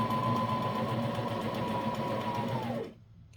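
A sewing machine runs steadily stitching a wool diaper cover, a fast even mechanical whir held for nearly three seconds before stopping abruptly.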